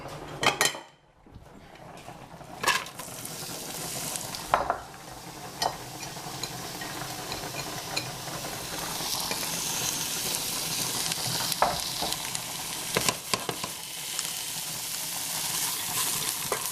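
Onions sizzle steadily in a hot pan while a utensil stirs them, with clear scraping and knocking against the pan at intervals over a constant frying hiss, near and without speech.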